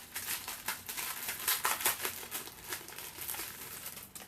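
Paper envelopes holding greeting cards are handled and opened, giving quiet, close crinkling and crumpling with irregular bursts of papery rustle and no talk.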